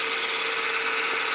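Pittman electric motor spinning at around 4,000 to 5,000 RPM, giving a smooth, steady, close whirring hum with a constant tone and no breaks.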